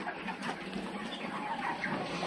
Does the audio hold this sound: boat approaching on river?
no